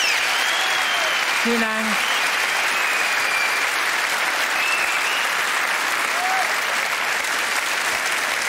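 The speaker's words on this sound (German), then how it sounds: "Ich freue mich sehr über dieses Klatschen." A live comedy audience applauds in a steady, dense wash of clapping that lasts throughout, while someone briefly speaks over it near the start.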